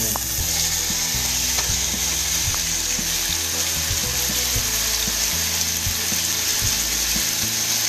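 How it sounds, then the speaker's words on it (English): Chicken pieces fry in hot oil for a Kung Pao dish, a loud, close, unbroken sizzle with crackles and pops scattered through it, and nobody talking. "we're gonna go bring them over to the hot oil and"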